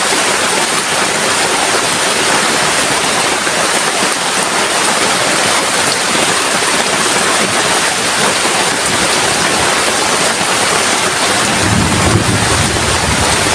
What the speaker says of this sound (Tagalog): naabutan po tayo ng ulan